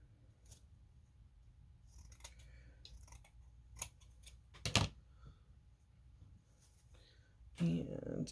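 Scissors snip through placemat material in a few quiet, scattered cuts, with one sharper louder snip near the middle and soft handling noise between.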